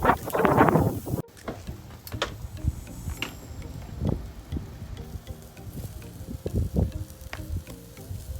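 A split whole chicken seasoned with garlic, onion powder and yogurt crackles on a charcoal grill, with soft continuous sizzling punctuated by sharp pops and clicks, loud at the start and then quieter with scattered ticks.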